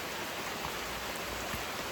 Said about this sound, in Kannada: ಫುಲ್ ಮಳೆ ಬರ್ತಿದೆ